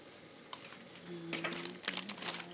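Garlic hitting a hot frying pan while salmon dinner is cooked, giving a soft steady sizzle with a few sharper crackling bursts and light utensil stirring, close by with no talk.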